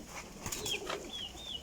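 Sialkoti pigeons from an old bloodline make soft rustling wing flaps and faint thin calls nearby, quiet and brief, with no talking.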